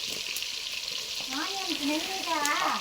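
Onions frying in a pan give a continuous moderate sizzle and stirring scrape, with a faint voice-like tonal sound drifting in the background during the second half.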